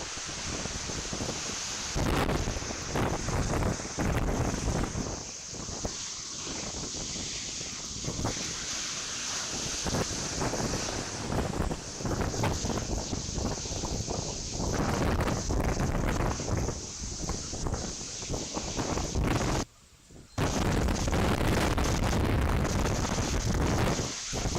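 Strong hurricane wind from Hurricane Beryl battering a live outdoor camera, loud roaring gusts and buffeting rumble filling nearly the whole stretch, with one brief drop out near the end.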